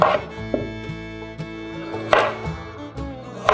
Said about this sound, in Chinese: 准备1条小黄瓜，去头去尾，斜刀切成段状